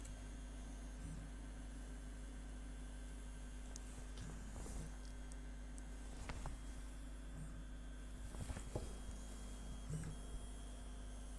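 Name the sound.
Easythreed X1 Mini 3D printer printing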